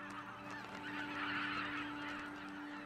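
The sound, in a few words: snow geese honking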